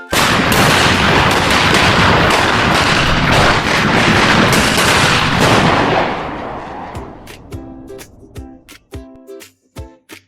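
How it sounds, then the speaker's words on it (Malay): Seed pods burst open in explosive seed dispersal: a loud, crackling rush of bangs lasts about six seconds, then thins into scattered sharp pops that fade out. "Ini dipanggil pencaran biji benih secara letupan."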